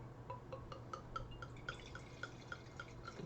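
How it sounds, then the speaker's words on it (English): Courvoisier VSOP cognac poured into a snifter glass: faint, quick liquid drips and glassy trickling ticks at a steady rhythm over a low hum, quiet and close with no voices. "Pour a little bit into the sniffer glass here."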